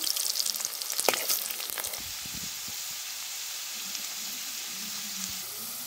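Potatoes sizzle and crackle as they fry in hot oil for a dhaba-style dum aloo, a burst of sharp spitting at the start settling into a steady close hiss.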